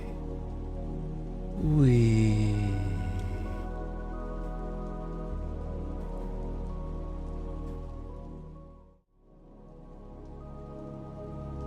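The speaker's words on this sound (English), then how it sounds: "Listen to the rain." Video game rain hisses steadily throughout over a low, sustained tonal hum, with a brief swelling whoosh early on and a short dip near the end.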